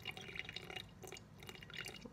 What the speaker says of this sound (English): You just pour really slowly until it hits 75.